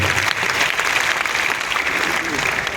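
An audience applauds steadily, a dense, even wash of clapping that holds throughout without letting up.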